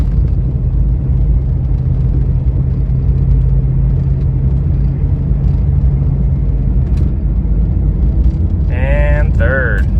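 A cheap Jeep drives on a test run after being revived, its engine holding a low, steady droning rumble throughout as it moves through the gears, with a brief higher voice-like sound near the end.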